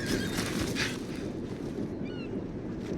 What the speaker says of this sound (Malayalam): കുതിരയുടെ സൗണ്ടല്ലേ കേട്ടതിപ്പോ?